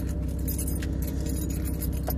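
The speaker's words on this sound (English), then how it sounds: "All right, where my keys at?" Keys jangle in a steady metallic rattle through a short stretch, close by, over a low engine-like rumble from a car or vehicle nearby.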